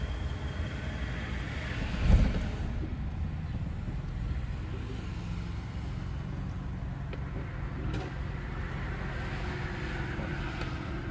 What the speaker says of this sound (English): if I want to start my generator, I just hit this start button, and it says starting